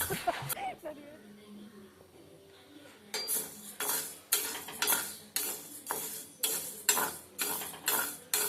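Horse gram being fried in a pan is stirred with a metal utensil, giving a rhythmic series of scraping clinks in the second half after a quieter stretch, with a voice talking over it.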